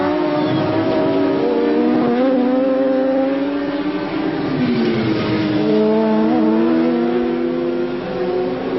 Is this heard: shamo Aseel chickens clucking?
no